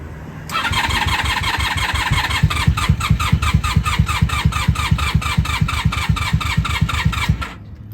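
A Honda Magna 750 VF750C motorcycle engine, 1994-2003 model, cranks over with the starter in a fast, steady, rapid chugging rhythm for about seven seconds, close and loud, then stops without catching.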